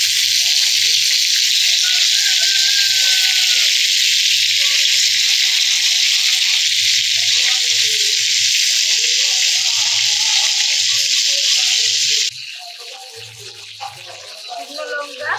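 Greens frying in a pan with a tempering of dried chili and black cumin, a loud steady hiss and sizzle that runs on and then drops away sharply near the end, with soft kitchen clatter underneath.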